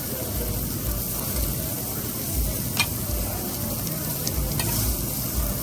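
Green and red peppers with onions sizzle on a Korean BBQ grill, a steady broadband frying hiss with faint stirring, held at an even level throughout.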